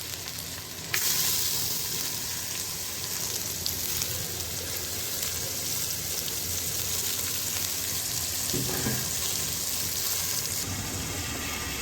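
Onions frying with salt until brown for a vegetable biryani, a loud, unbroken sizzle lasting the whole stretch with occasional soft stirring scrapes and one brief clatter, heard up close without any voices.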